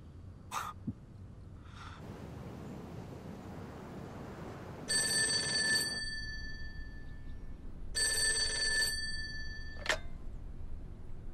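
Two bursts of a telephone's electric bell ring out, each about a second long and spaced a few seconds apart, over a quiet room with a faint cough and small clicks between them.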